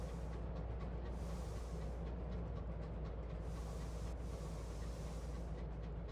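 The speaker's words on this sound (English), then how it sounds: "that's the sound of me turning" Locomotive turning in the video game Sunless Skies, a steady low rumbling engine roar with rhythmic chugging and hiss, constant and fairly quiet, with no talk.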